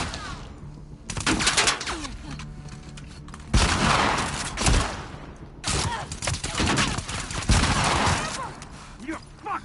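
Loud, repeated bursts of gunfire in The Last of Us Part II, including a silenced weapon, crack out in several clusters separated by short lulls, with voices shouting between the shots.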